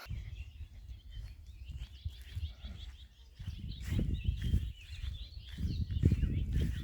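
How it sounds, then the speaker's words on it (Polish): Birds chirp in an overgrown garden plot left unmown in summer, with faint, steady high twittering over a low rumbling background that grows louder midway. "Ciekawe, czy słyszycie to świergolenie niesamowite."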